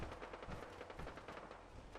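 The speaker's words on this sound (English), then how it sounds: "I hear gunshots." Rapid bursts of gunfire crackle in quick succession, fairly faint and continuous, like automatic weapons in Fallout 4.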